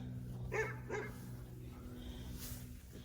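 A dog near a milk cow gives two sharp, close barks followed by softer yips and whimpers, set against a low steady background hum.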